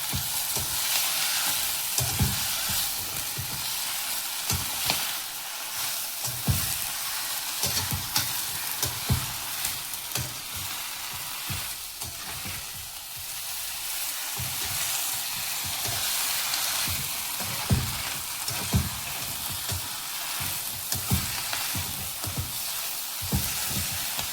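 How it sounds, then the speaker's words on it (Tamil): Sessile joyweed greens sizzle steadily in a hot pan while a utensil stirs and scrapes them in irregular pushes, under a constant frying hiss. "இப்போ இந்த கீரையை நல்லா வதக்கணும்."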